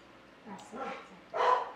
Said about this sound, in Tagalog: Hihingay na naman ang aso.